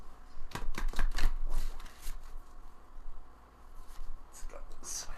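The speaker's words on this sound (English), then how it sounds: "I'm just going to shuffle a little bit more for you guys" Oversized tarot cards are shuffled by hand in a cluster of quick papery riffles and slaps, followed by softer sliding and tapping, close and fairly quiet with faint speech mixed in.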